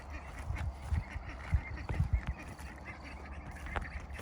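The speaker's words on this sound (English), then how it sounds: "Over on the far end of the orchard, I have my Peking ducks." Pekin ducks on a free-range orchard farm give a string of low, rough quacks and murmurs at moderate distance, irregular and overlapping, with some background rustle and no talking.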